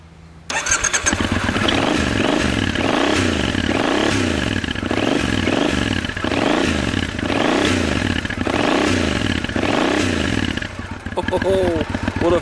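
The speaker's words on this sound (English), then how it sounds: "Oh, what a fantastic exhaust note. Beautiful engine." Triumph 900 Scrambler with an 865cc parallel twin four-stroke engine starts and is revved repeatedly in steady swells over a loud idle, close by, with brief talk at the end.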